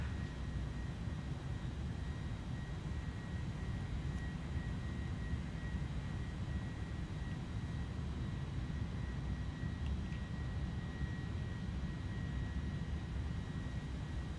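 Airbus passenger airliner engines in Microsoft Flight Simulator 2024, a steady low roar with a faint high whine running unbroken throughout at even loudness.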